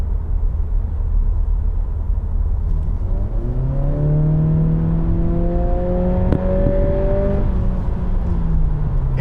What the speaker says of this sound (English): You can hear that engine, the 4-cylinder engine, rev out a lot more.